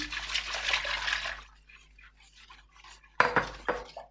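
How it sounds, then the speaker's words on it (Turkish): Milk pours steadily into a pot for over a second, followed by quieter trickling and a couple of clinks or splashes near the end. "Sütümü ilave ediyorum."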